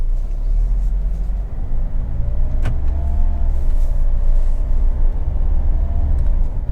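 Hyundai Venue diesel automatic pulling away, a steady low engine rumble heard from inside the cabin, continuous and fairly loud, with a brief click partway through.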